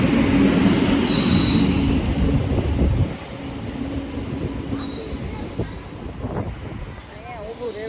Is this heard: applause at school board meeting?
no